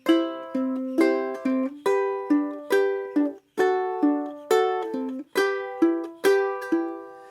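A ukulele plays a repeating fingerpicked pattern of single bright plucked notes, steady and even in rhythm, close and alone.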